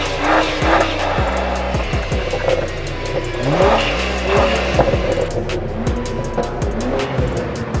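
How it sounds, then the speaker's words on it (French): Motorcycle engines rev and whine as bikes sweep past on a track, pitches rising and falling repeatedly, loud and fairly close, with no voices. "regarder un peu les motards qui tournent là"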